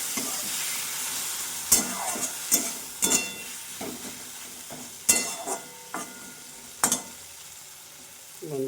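Posto data, poppy seed stalks, cooking in a pan with a splash of water, with a steady soft sizzle broken by several sharp stirring scrapes and clinks.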